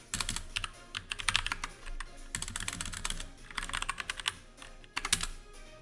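Quick bursts of keystrokes on a computer keyboard as a password is typed: clustered clicks with short pauses between them, close and fairly quiet, with no talking.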